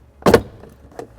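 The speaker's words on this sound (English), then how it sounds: "We're gonna push down on it, and then that will allow us to pull up" A plastic push pin is pressed down and the storage tray pulled up inside a 2013 Lexus RX350, producing one sharp plastic click followed by a few softer, brief clicks and rattles nearby.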